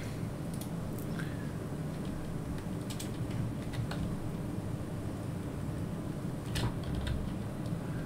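Quiet, uneven clicking of keys on a computer keyboard during a Soulworker gaming session, with scattered light taps over steady background hiss.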